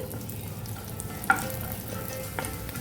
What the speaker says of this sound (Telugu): ఇప్పుడు మంచి కలర్ వచ్చేంత వరకు ఫ్రై చేసుకోవాలండి